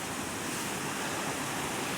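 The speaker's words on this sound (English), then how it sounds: "if I keep walking up, we've got the waterfall here" A waterfall in Glencoe, in the Scottish Highlands, gives a steady, dense rush of falling water, an even broadband roar that holds unbroken for the whole moment with no voices over it.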